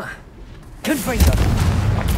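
A Confringo blasting curse fires in the Hogwarts Legacy game while fighting in the Highlands: a sudden loud boom erupts and rolls into a sustained, rumbling blast that continues to the end.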